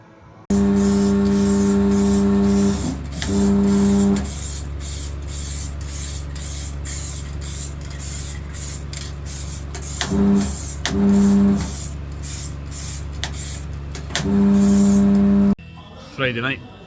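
A spare race-car differential part, already tacked at four corners, is welded in a workshop. There is a steady rough hiss over a constant low hum, with several louder bursts that start and stop throughout.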